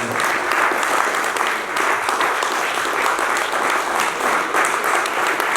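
A launching ceremony audience gives a standing ovation as a CEO is welcomed on stage, with loud, sustained, even clapping that fills the whole stretch.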